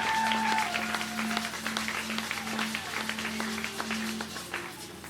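An audience claps continuously in dense, steady applause, with a sustained organ-like tone and scattered voices underneath.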